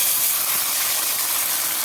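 Spice mix tipped into hot oil with fried onions in a pan while cooking aubergine, a steady loud broadband sizzle hissing evenly throughout.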